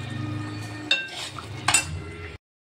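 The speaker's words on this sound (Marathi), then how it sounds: "इथे बघा आता आपलं सुक्कं चिकन इथं शिजत आहे" Low frying sizzle of dry-style spiced chicken in a pan with two sharp metallic clinks of a utensil, then the sound cuts off abruptly.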